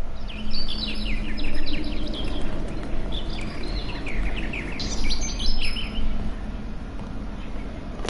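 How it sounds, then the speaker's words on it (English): Small bird chirps and twitters in The Witcher 3, a sparrow, with bright repeated calls over a steady, fairly loud ambient background. "Sees a sparrow because Ciri is known as the sparrow."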